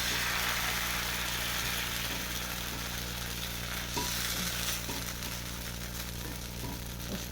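Spoonfuls of batter for kalai shooti chukli frying in a hot pan, a steady close sizzle running throughout with faint stirring clicks, no talking.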